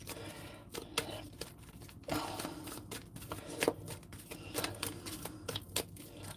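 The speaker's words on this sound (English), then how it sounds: "Cards are ready. I've given them a good shuffle" Tarot cards being shuffled by hand, giving soft papery riffles and slaps in irregular bursts at low, close level with no talking.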